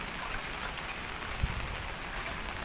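Steady rain falls in a constant soft hiss, heavy and even across the whole stretch, with one brief thud near the middle; no one speaks.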